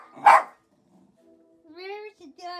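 A single sharp dog bark rings out nearby, followed by a pause and then a high-pitched voice speaking.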